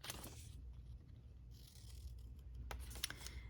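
Scissors cut out a paper label for a junk journal, a few quiet close snips and rustles of paper over a short moment.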